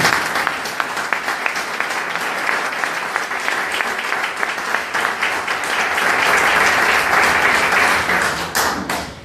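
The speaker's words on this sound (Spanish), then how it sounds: "Levanta un mejor aplauso al Señor en esta mañana." A church congregation claps during a Spanish-language sermon service, loud, sustained crowd applause with scattered sharper claps and light thumps running throughout.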